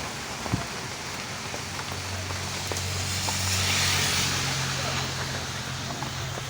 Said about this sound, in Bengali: প্রচণ্ড বৃষ্টি হচ্ছে